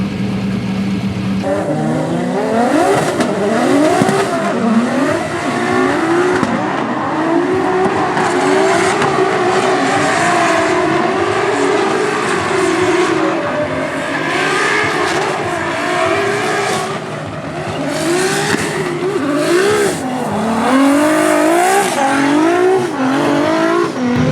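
A Formula Drift car at Orlando drifts along the banked wall, its engine roaring loud and close with rising and falling revs over continuous tire squeal that runs the whole time.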